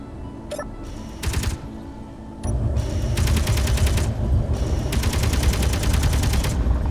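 Gunfire from a skimmer bike in the video game Space Engineers rattles out in several rapid, loud bursts, with short pauses between volleys. Nobody speaks.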